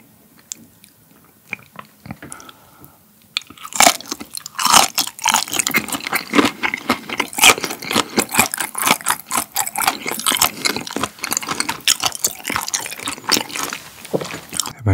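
Whole raw gizzard shad, bones included, is chewed up close after a short quiet start. Dense, wet crunching and crackling bites follow one another steadily and loudly, with small clicks in between.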